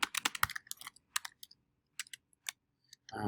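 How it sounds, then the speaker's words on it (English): Computer keyboard typing in bursts of quick clicks, dense at first and then sparser, close and fairly loud, with no voices, ending in a brief rustling noise. "If I can type."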